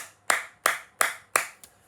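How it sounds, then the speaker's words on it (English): Five sharp, evenly spaced hand claps, close and dry, each one distinct, with the last noticeably softer. "So let's give them a round of applause."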